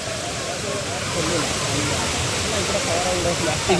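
Water rushes at Khem dam in Konkan in a steady, broad roar, with people talking faintly under it.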